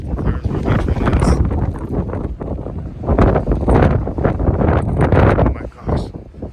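Strong wind buffeting the microphone outdoors on Alcatraz Island in San Francisco at night, loud, gusty rumbling roars that rise and fall throughout with little pause.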